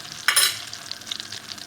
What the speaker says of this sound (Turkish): Biberimizin rengi çıkınca kalan etlerimizi de ilave ediyoruz.